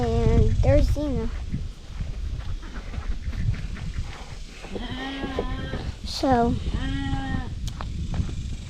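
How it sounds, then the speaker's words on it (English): Sheep in a pen give several close, wavering bleats, a cluster at the start and more toward the end, while a person talks softly over steady background noise. "There's the other sheep."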